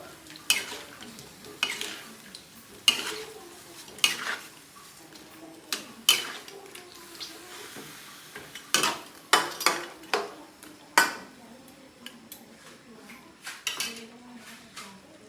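Adobo chicken stirred in a pot, with a series of sharp metallic scrapes and clinks of a spoon against the pot at irregular intervals and a faint simmer between them.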